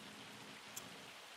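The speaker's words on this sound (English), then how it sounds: "we got hail" Hail pelting the ground in Farming Simulator 25 on the Pleasant Valley Rivers map: a steady, even patter and hiss throughout, with one brief sharp tick near the end.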